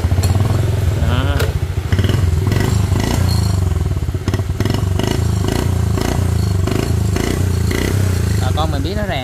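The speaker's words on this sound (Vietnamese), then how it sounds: "để em nổ máy cả nha" A 1978 Honda Cub motorcycle engine fires up and runs with a loud, rapid chugging putter, punctuated by mechanical clatter and a few sharp revs near the end.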